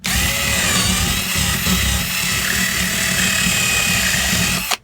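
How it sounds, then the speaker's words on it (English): A power drill bores out a hole in a model farm build, running as one steady, close, loud whirring drone for nearly five seconds before cutting off at the end, with no talking. "I need to drill out this hole a little bit more looking at it."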